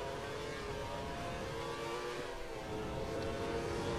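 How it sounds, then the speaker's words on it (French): F1 car engine in the F1 2013 video game at the Hungarian Grand Prix, making an odd noise: a steady, continuous whirring drone with a faint high whine, constant level throughout, with no voice. "on entend une voiture qui fait un bruit assez bizarre"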